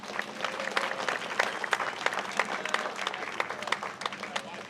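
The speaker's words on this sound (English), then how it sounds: "So let's give a round of applause." An audience applauds outdoors at a veterans memorial boulevard centennial event. The clapping is scattered and moderately quiet, with individual claps standing out irregularly over several seconds.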